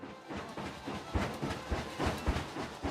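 A train pulls into a station in the Planet Coaster video game, a steady rumble with rhythmic clickety-clack beats and a soft hiss, fairly loud and close throughout.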